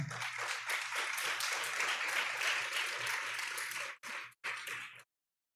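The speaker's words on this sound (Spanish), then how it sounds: "un fuerte aplauso a los que participaron y a los que vienen ahora" Audience applause at the MicroPitch 2022-2023 business plan competition grand final, a steady wash of clapping from a crowd, moderately distant, cutting off abruptly near the end.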